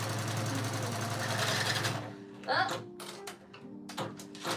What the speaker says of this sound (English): there's the bobbin making all that noise.